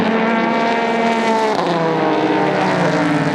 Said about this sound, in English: here comes the Porsche. Almost 300 kilometres an hour